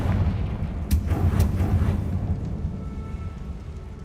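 Confringo fire spell cast in Hogwarts Legacy: a loud, deep rumbling blast with two sharp bright cracks early on, then a rolling low boom that slowly fades, heard alone.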